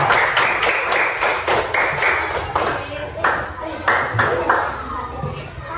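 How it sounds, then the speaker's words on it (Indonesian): A group of classmates clap their hands together in a classroom, a dense, close patter of claps lasting several seconds with brief pauses between bursts. "Silakan tepuk tangan."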